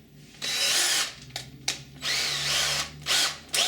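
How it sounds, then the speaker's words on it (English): A power drill whines in several short bursts with brief pauses between, loud and close, drilling pilot holes into a uPVC or composite door, biting into wood. "put 2 pilot holes through in the place that we've marked"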